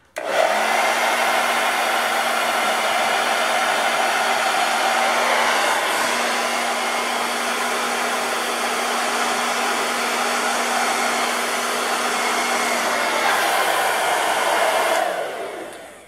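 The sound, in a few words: blow dryer pushing acrylic pour paint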